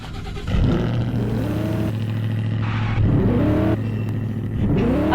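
A car engine revs hard and accelerates in repeated rising surges, loud and close, with gear changes breaking the climbing pitch and no talk over it.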